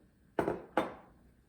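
Dried milk powder being stirred into a homemade potato soup mix, heard as two quick, close scraping strokes of a utensil against a bowl, fairly quiet, with no talking.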